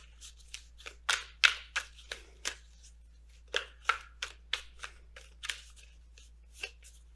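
Oracle cards are shuffled by hand for a tarot reading, a run of crisp riffles and slaps in an irregular rhythm, close and quiet in an otherwise still room.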